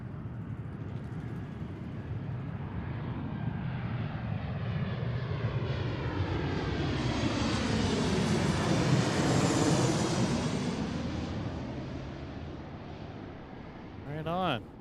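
A passenger jet lands on runway 34 left at Seattle airport, its engine roar swelling to a loud, close peak mid-pass and then fading, broadband and continuous with a brief rise at the end.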